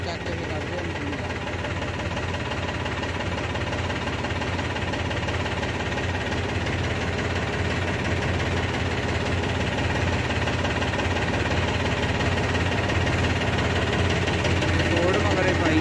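A farm tractor engine runs steadily while pulling a super seeder machine out, a continuous loud low rumble with knocking vibration that holds at an even level throughout.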